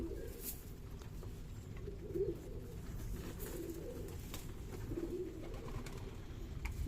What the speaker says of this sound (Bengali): আমার সকল কবুতর রেসার আর গিরিবাজ অন্য কবুতর নাই আমার কাছে